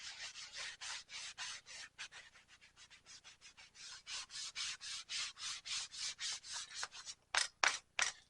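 Dye is rubbed onto a large-frame leather holster in rapid repeated back-and-forth strokes, a close, soft swishing rhythm that speeds up into sharper scrubs at the end.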